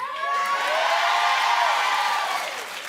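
A television talk-show studio audience claps and cheers in a dense, sustained wave of applause with whoops, loud and steady for a few seconds before easing slightly at the end.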